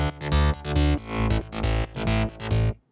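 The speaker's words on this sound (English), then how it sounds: "So you get a little bit of a driving, kind of a rolling bass line sound." Rolling synth bass line in a trance track, a driving, pulsing pattern in repeated phrases with strong low end and bright distorted upper layers, loud and alone with no talk.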